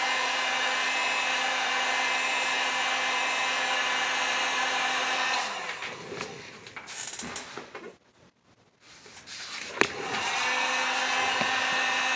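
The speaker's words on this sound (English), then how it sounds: "Now I use a heat gun to dry." A heat gun drying a base coat of paint on pottery blows with a steady, airy roar, pauses briefly, then starts up again close by.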